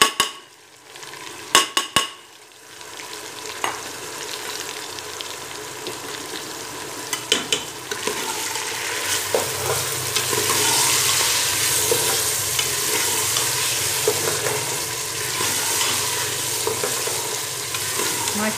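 White lobia beans and potatoes fry in a pan as a spoon stirs them, with a few sharp clanks against the pot at first, then a steady sizzle under intermittent scraping and stirring.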